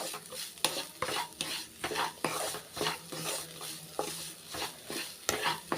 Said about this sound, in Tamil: சுகர் சேர்த்த உடனே லைட்டாக வதக்கிட்டு ஸ்டவ் ஆஃப் பண்ணிடலாம்